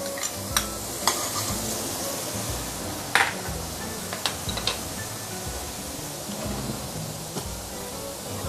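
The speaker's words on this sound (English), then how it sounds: "we want to saute our ginger and garlic" Ginger and garlic frying in a few tablespoons of oil, giving a constant close sizzle dotted with sharp clicks and scrapes from a utensil stirring against the pan.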